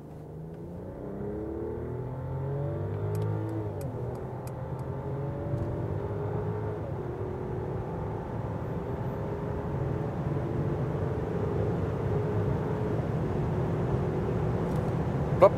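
A Mercedes S-Class S500 in sports mode accelerates from about 40 km/h, giving a steady muffled engine drone and road rumble from inside the cabin that gradually rises in pitch over fifteen seconds, with no talk.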